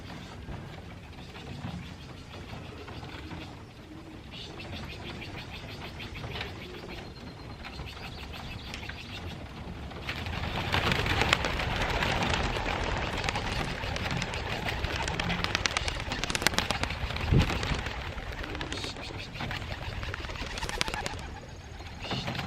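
Racing pigeons coo and flutter amid rustling and clattering in a loft, the flapping and movement swelling louder partway through as the birds fly out.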